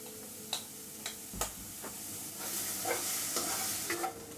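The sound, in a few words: egg frying in pan with drumstick leaves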